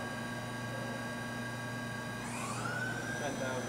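The center spindle of a Kira drilling and tapping center spins up, a steady machine hum with a tonal whine that rises in pitch partway through, close and continuous.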